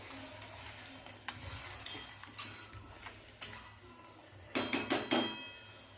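Gravy with peas cooking in a pan over low heat, a soft background sizzle broken by a series of sharp spatula scrapes and clinks against the pan, louder toward the end.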